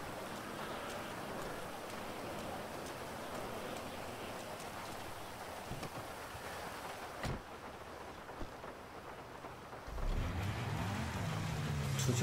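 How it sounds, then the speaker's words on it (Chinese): Rain falls in the GTA V online game world as a steady, even hiss throughout, with a brief crackle midway and a louder low rumble entering near the end. "外面在下雨"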